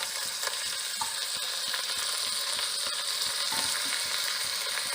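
Minced meat sizzles and fries in a pan with onions, a dense continuous crackle broken by regular soft scraping knocks of stirring, with no talking.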